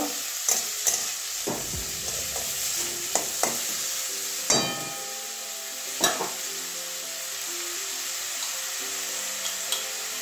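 Pointed gourd seeds and pulp frying in a pan for potoler dorma, a steady hiss of sizzling oil broken by several sharp spatula knocks and scraping stirs, close and without voices.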